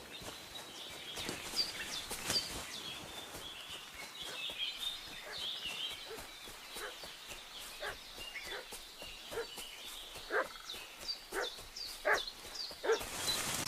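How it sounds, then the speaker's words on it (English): A dog barks and whimpers repeatedly in a video game, yelping in short irregular bursts at moderate distance over a steady hissy outdoor ambience with faint bird calls. "What's that dog making such a fuss about?"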